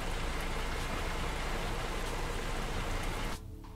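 Steady rain falls in American Truck Simulator, a dense even hiss of drops on surfaces that cuts off abruptly near the end, leaving a quieter low hum.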